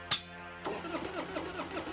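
A cartoon car engine cranks and sputters without catching, a brief sharp burst followed by a rough, rattling churn that keeps on without settling into a running idle.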